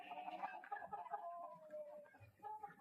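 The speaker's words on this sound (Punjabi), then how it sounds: "ਆਹ ਵਾਲੇ ਆਪਣੇ ਕੋਲ ਮੁਰਗੇ ਜਿਹੜੇ ਸੇਲ ਵਾਸਤੇ ਆ ਤਿੰਨ ਚਾਰ ਤੁਸੀਂ ਖੜੇ ਦੇਖ ਸਕਦੇ ਹੋ" Roosters kept for sale cluck and call in a shed during rainy weather, faint and somewhat distant with no talk over them.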